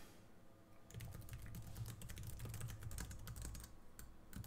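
Rapid, dense typing on a computer keyboard while entering hexadecimal test values during a binary exploitation exercise, a steady clatter of close keystrokes lasting several seconds with no talking.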